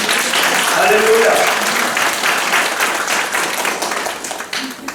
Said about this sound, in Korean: 우리 하나님께 영광의 박수를 드리겠습니다.